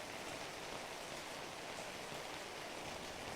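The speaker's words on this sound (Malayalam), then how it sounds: "ഇതുവരെ മഴ ഉണ്ടായിരുന്നില്ല, ഇപ്പോൾ മഴ ആരംഭിച്ചിട്ടുണ്ട്" Steady rain falls in Kozhikode in a constant, even hiss, close and unbroken for the whole stretch.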